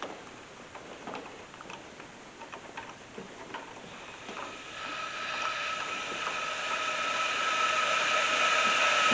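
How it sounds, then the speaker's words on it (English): Compressed air hisses steadily out of an engine's intake during a cylinder leak-down test on a car with leaking valves, a broadband rush that grows louder and more sustained over the second half, with faint ticking early on. "tons and tons of air coming out of the intake, and then nothing detectable on the exhaust."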